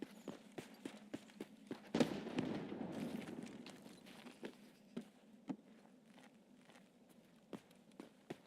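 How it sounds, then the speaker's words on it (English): Grenades going off in Escape From Tarkov, a muffled blast with a rumbling tail rising among many sharp, spaced clicks and thumps like footsteps, fairly faint and with no talk. "A lot of fucking grenades going off over here."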